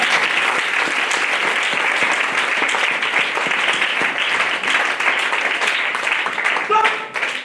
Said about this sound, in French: Acclamez le Seigneur pour la santé.